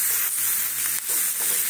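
Vegetables frying in a pan with a loud, steady hiss and a couple of soft stirring scrapes, close by with no voices.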